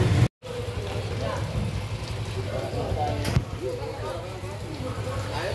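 Rain falls steadily in a very narrow alley in Palembang around dusk, a continuous close hiss and patter, with people talking over it.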